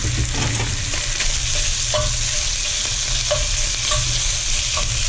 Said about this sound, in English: I got some bacon, and we're going to be putting the bacon in here